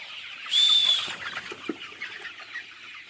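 Forty-day-old chickens flap their wings about near a water drinker, a short burst of flapping with a brief squawk, then lighter scuffling and clucks.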